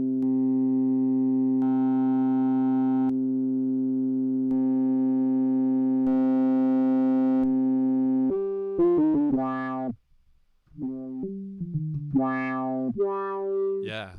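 An analog-style synthesizer tone in Ableton holds steady while its saturation setting is cycled through, the texture shifting in stages, then it breaks into short plucked notes with a brief gap of silence.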